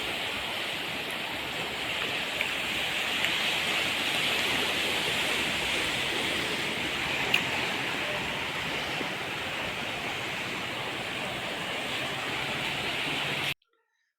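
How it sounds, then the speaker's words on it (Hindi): Rushing floodwater in swollen streams and drains after heavy rain in Jammu and Kashmir, a steady broadband roar that stays constant and fairly loud throughout, then cuts off abruptly near the end. "कई मकामात पर तेज बारिश से नदी नालों में भरा पानी।"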